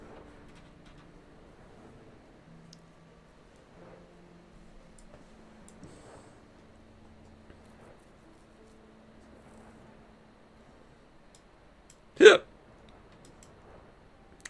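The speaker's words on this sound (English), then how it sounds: "the hiccups" A single sharp hiccup bursts out near the end, loud and brief against a quiet room with faint keyboard tapping and low background hum.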